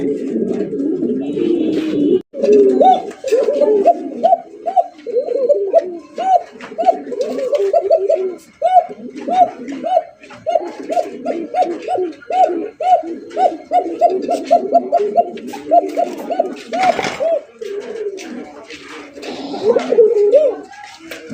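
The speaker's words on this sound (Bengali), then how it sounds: "এটা হচ্ছে শিকারি কবুতর" Shikari (hunting) pigeons coo loudly and close, in a long chain of rhythmic, repeated throaty calls with brief breaks, alongside faint other noises.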